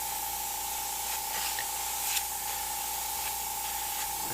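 Airbrush spraying paint through a texture stencil to simulate hair on a Bride of Frankenstein piece: a steady, close, continuous hiss of air and paint with a constant tone, no talking.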